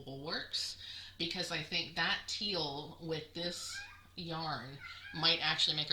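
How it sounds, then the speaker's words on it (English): Momo the cat meows repeatedly in a hallway, loud insistent yowls mixed in with someone talking steadily, the cries overlapping her speech across the whole stretch. "If you hear that meowing"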